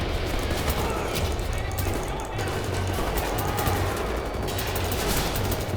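A mounted gun fires continuously in Wolfenstein: The New Order, a dense, sustained rattle of rapid shots layered with crashing impacts, loud and unbroken across the whole stretch, with a voice speaking over it.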